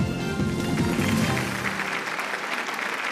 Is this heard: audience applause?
yes